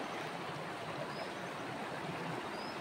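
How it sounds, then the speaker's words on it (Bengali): A mountain stream near Tabakoshi in the Darjeeling hills flows with a strong current, making a steady, dense rushing hiss that continues without break. It is faint to moderate in level. "তো ভালোই স্রোত আছে এখন, স্রোত না"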